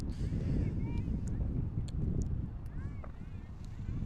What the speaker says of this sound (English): And man, it is really windy and really cold.